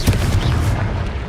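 Confringo fire spell explosions in the Hogwarts Legacy video game, a dense rumbling boom-heavy burst that continues through the whole moment with no voices over it.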